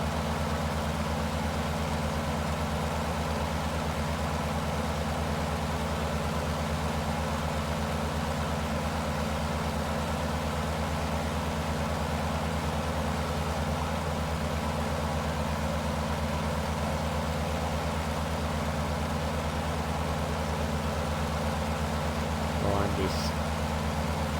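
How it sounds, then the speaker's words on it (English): Aircraft engine droning steadily in hot weather during a climb in Microsoft Flight Simulator 2024, a constant low hum without pauses throughout. "it's hot outside and the engine is struggling"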